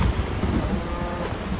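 Steady rain pours down with low thunder rumbling throughout, a dense, continuous storm wash with no voices.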